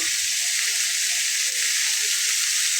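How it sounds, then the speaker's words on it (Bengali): Potato and pumpkin pieces sauté in a pan, producing an even, loud, hissing sizzle that holds steady throughout with no talk. "আর এখানে আমি আলু এবং কুমড়োটাকে খুব ভালোভাবে এভাবে কষিয়ে তৈরি করব।"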